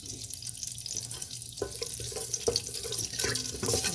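Whole cumin seeds sizzling in a mix of oil and ghee in a pan, a steady close crackling hiss with a few sharper pops, heard alone without talk.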